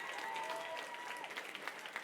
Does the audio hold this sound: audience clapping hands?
yes